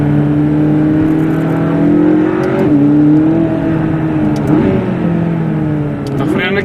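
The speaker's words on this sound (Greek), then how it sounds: "Το γρέζι του V8 ανακατεύεται με το φύσιμα από τις τουρμπίνες και γίνεται κόλαση." A McLaren 570S twin-turbo V8 revs and pulls hard from inside the car during a rally, its pitch climbing and dropping through gear changes, with turbo whoosh and a voice over it.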